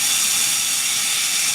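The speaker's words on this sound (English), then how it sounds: "a hot test on this olive oil that I put in this pan, because I need my steaks to sear on both sides" Olive oil in a hot pan, tested before searing T-bone steaks, gives a loud, steady, close hiss that runs unbroken from start to finish.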